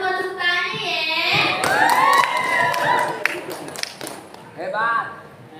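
Scattered clapping from an audience at a Betawi pantun festival, mixed with excited shouts and cheering voices; a few sharp, close claps stand out amid the crowd noise over several seconds before it fades and voices rise again.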